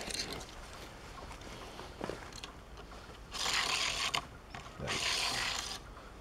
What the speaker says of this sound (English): Let's see how it rolls in the track.